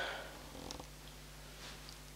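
An old cat snores while asleep, a faint, low, continuous rasping breath close by in a quiet room.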